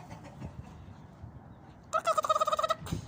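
A turkey gobbles loudly in a rapid, warbling burst after a stretch of quiet farmyard rustling.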